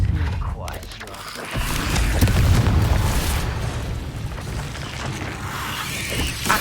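A Confringo fire spell bursts in Hogwarts Legacy, a loud booming blast with a rumbling roar that swells and lingers for several seconds.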